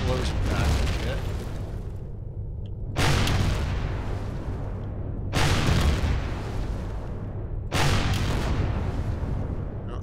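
Explosions in the space survival game Empyrion - Galactic Survival, three or four loud broadband blasts roughly every two and a half seconds, each bursting sharply and then rumbling away under steady game noise and a talking player.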